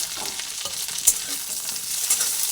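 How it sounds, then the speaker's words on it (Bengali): Cashews, raisins and walnuts fry in oil in a pan for Bengali rice payesh made with Gobindobhog rice, giving a steady close sizzle with small stirring scrapes and one sharper clink near the middle. "সব কাজু কিশমিশ আখরোট সবই আমি এর মধ্যে দিয়ে দিলাম ড্রাই ফ্রুটগুলো সব দিয়ে দিলাম"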